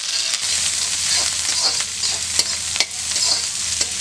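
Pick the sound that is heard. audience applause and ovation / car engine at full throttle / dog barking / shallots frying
shallots frying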